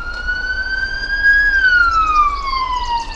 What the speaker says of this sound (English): There's the trademark siren